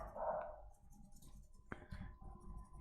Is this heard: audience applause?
no